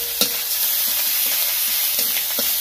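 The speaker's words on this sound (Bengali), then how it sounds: "এবার দিয়ে দেবো পেঁয়াজ বাটা, রসুন বাটা, আদা বাটা," Onion, garlic and ginger paste fries and is stirred in a pan while a Bengali fish kalia is cooked, giving a short, steady sizzle with scraping stirs, close and fairly loud.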